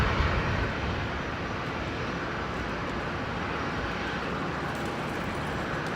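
Rolls-Royce Trent XWB jet engines on an airliner at Brisbane Airport produce a loud, continuous broadband roar, slightly stronger at the start and then steady, with no talk over it.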